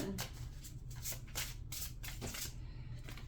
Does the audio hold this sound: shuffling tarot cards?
yes